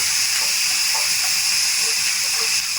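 Green chillies, onions, salt and turmeric sizzle in a frying pan with a steady, loud hiss that holds throughout, with no talking over it.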